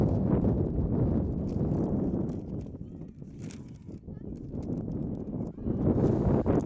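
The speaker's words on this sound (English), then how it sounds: "Sorry, there's a big gust of wind" Wind gusts buffet the microphone at an outdoor high school softball game, making a continuous loud, low rumbling roar that swells and dips for several seconds.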